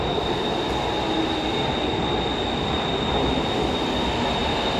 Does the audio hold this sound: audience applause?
no